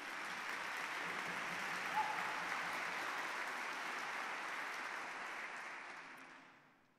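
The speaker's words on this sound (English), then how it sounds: "Give her also an applause." An audience at a Children's Peace Prize ceremony gives sustained applause, a broad, even wash of clapping from many people that tapers off and fades out near the end.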